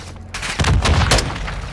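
Dense bursts of gunfire in a Call of Duty: Modern Warfare 2 campaign firefight rattle loud and close, with overlapping shots and booms running continuously through the moment.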